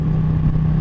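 A Ducati L-twin motorcycle engine runs steadily with a low, throbbing rumble, close and loud, with no voices.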